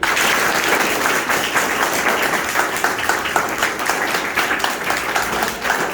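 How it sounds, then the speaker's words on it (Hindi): A seated audience at a guest speaker's talk claps steadily and loudly for several seconds, a dense, even wash of applause with no voices on top. "तालियां बजाने के लिए"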